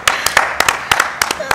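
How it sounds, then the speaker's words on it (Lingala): An audience claps for the musicians at a broadcast music show, with sharp, distinct claps falling in a steady rhythmic beat roughly three times a second. "Les musiciens, est-ce qu'on peut acclamer pour les musiciens?"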